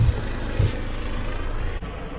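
Helicopter flying over the Crib Goch North Ridge and Clogwyn y Person arete in Snowdonia: a loud, steady rotor and engine rumble with a deep pulsing throb, heard continuously outdoors over wind.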